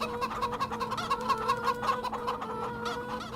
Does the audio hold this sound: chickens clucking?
yes